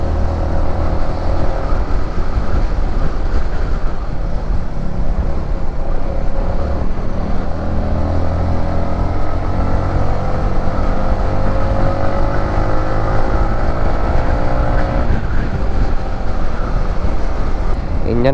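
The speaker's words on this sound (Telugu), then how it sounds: "ఇంజన్ బాగా మళ్ళీ ప్రెషర్ తీసుకుంటుంది నిన్నట్లాగా." Yamaha MT-15 motorcycle engine labors up the hill road to Nandi Hills, a loud, steady drone with slowly shifting pitch and wind rush throughout, close to the rider.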